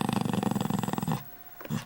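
A dog growls low and rumbling in a rapid pulsing series, close by, then breaks off into a short quiet before a brief final rumble.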